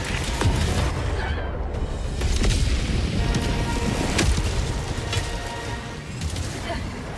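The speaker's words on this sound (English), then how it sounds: "Warning, you are in range of enemy artillery." Enemy artillery explodes around the player in Helldivers 2 during an Automaton mission on Malevelon Creek, with repeated heavy booms and blasts rolling through a dense battle din while a voice speaks over it.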